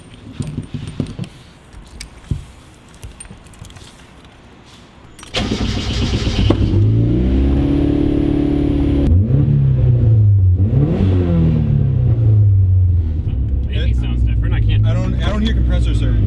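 A car engine with a turbo blow-off valve fitted with only one of its two springs starts after some handling noises, then revs up and down several times close by, with a brief hiss between revs and a person talking.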